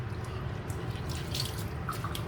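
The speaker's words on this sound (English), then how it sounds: "See how the water gushing up." Water rushing steadily from a kitchen sink tap with its cartridge removed, a continuous close splashing flow with a few small drips.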